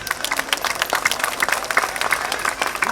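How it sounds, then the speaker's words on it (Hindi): Steady applause from a sizable crowd at a protest sit-in, dense overlapping claps sustained for several seconds without a break. "अब तालियां।"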